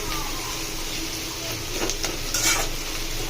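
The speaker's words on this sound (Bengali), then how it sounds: "এই যে ডিম ভাজা নিচ্ছি, মুরগিও ভাজা নিচ্ছি।" Eggs and chicken frying in a pan make a dense, continuous sizzle close by, with a few brief metallic clinks of a utensil against the pan near the end.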